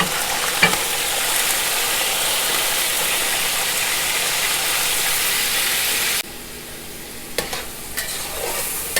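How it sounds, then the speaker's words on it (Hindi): Chicken pieces fry loudly in hot oil with garlic-ginger paste, making a steady close sizzle with stirring scrapes. The sizzle drops sharply partway through, leaving a quieter crackle and a few clinks. "हमने अपने चिकन को ऑयल और लहसुन अदरक के पेस्ट के अंदर इसको फ्राई करना है।"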